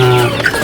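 Chickens clucking in a coop kept above a black soldier fly maggot bed, a short loud burst of close clucks and a brief squawk with no talk.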